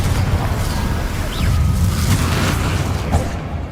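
In Hogwarts Legacy, the Confringo explosive spell goes off as a deep, booming blast, with a loud sustained rumble and a whooshing tail during a spell-slinging duel.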